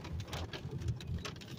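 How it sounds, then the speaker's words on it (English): Heavy rain falls steadily in a dense, continuous hiss with soft patter on surfaces, fairly quiet and unbroken, with no one talking. "How come it's raining very hard"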